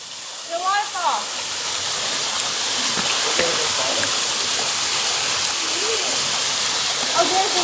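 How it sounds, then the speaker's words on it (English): Waterfall in a bamboo forest, a loud steady rushing roar of falling water that fills the whole span, with faint voices and a few bird-like chirps over it. "The waterfall."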